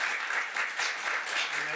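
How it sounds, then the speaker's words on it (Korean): Audience applause at a Korean political forum welcoming a speaker to the podium, a dense, steady patter of many hands clapping at moderate volume, brief and uninterrupted by voices. "박수로 맞이해 주시면 감사하겠습니다."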